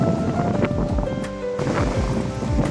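Steady wind gusting across the microphone at a graveside, a continuous rumbling buffet with low thumps, outdoors with no voices.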